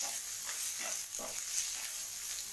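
Chopped onion and capsicum fry in a pan for a tawa pizza topping, giving a steady, close hiss of sizzling that runs unbroken throughout with no voices.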